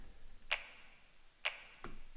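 Finger snap samples in a music beat: three crisp, bright snaps, two spaced about a second apart and a third close behind, over a quiet background bed.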